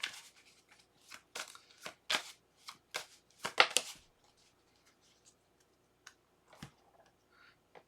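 Tarot cards being shuffled and drawn in a quiet room, a series of soft papery riffles and slaps in the first four seconds, then a few faint isolated taps and card flicks.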